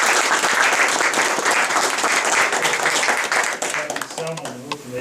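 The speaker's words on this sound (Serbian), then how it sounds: "da ih pozdravimo jednim aplauzom" Applause from the audience at a public forum on the life of Serbs in Macedonia, dense steady clapping filling the room and tapering slightly toward the end.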